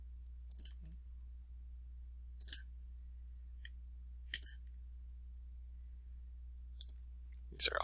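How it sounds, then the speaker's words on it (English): Left mouse button clicks while sketching in Solidworks, several sharp isolated clicks spaced a second or two apart over a quiet background. "These are all just left mouse button clicks."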